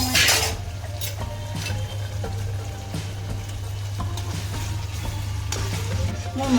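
Masala spice paste with a little salt fries and is stirred in a pan, a steady sizzle under repeated scraping and clinking of a utensil against the metal, continuous and close throughout.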